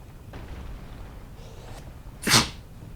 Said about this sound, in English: That's because I sneezed into my arm and made a weird noise.